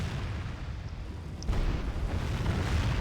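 Trebuchets and bombards in a Medieval 2: Total War battle, a deep rumbling boom landing midway over a constant low battlefield roar, distant and heavy.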